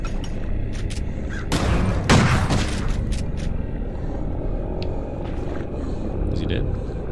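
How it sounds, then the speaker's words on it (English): Grenade explosion in the horror video game Crow Country: a deep boom and rumble bursts out about two seconds in, loud and close, with other game sounds and talk around it. "Grenade."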